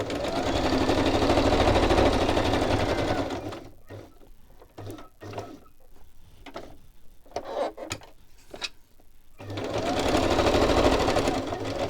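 Sewing machine stitching around a fabric pocket, a fast steady whirring chatter that runs, pauses for a stretch of small clicks and handling noises, then starts up again, close and with no talking.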